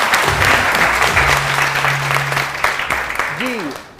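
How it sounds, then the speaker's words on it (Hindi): Studio audience at a TV morning show applauds in a loud, dense, steady wash of clapping that lasts throughout, with a voice speaking briefly over it. "बहुत सारी तालियां जी, बहुत सारी तालियां"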